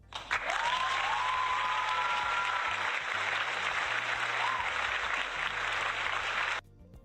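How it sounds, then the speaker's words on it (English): A round of applause from a studio audience rings out steadily for several seconds at close range, broad clapping with a faint tonal whistle running under it, then cuts off sharply. "And a round of applause."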